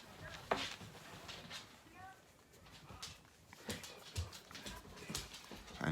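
A dog indoors gives short whimpers and faint scuffling noises, heard intermittently beneath someone talking.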